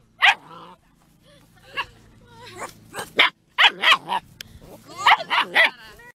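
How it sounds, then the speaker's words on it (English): A dog barks in a string of short, loud yips and barks, some close together in bursts, with quiet pauses between and faint whimpering tones. "why is the dog barking?"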